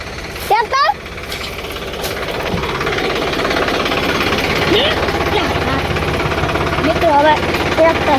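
A stuck tractor's engine thumps and chugs in a rapid, rhythmic knock that swells louder after a short shout at the start, and a voice calls out again near the end.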